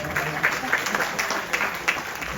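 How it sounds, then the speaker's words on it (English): Scattered applause from guests at an anniversary yagna ceremony: light, uneven claps over a background murmur, moderately close. "Give her a big round of applause."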